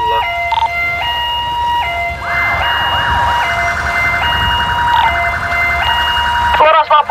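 Emergency siren from a police car, a loud two-tone wail that alternates steadily through most of the stretch, then cuts off sharply near the end.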